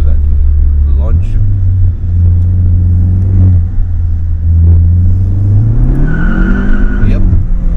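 A tuned Skoda Octavia RS245 on a Revo Stage 2 map revs hard and launches with ESC fully off, engine note climbing steadily and a short tire squeal near the end, with people talking over the drive.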